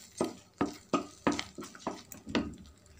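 A spoon stirring halwa with ghee in a pan: soft rhythmic scraping and squelching strokes, about seven in three seconds, close and fairly quiet.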